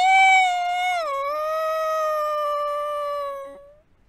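A wolf cub lets out one long howl in the night, a clear sustained tone that dips and then holds steady before trailing off, loud and alone.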